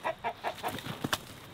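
Chickens cluck inside a homestead chicken coop in North Carolina, a quick run of soft, repeated clucks close by at a low level, with no talking.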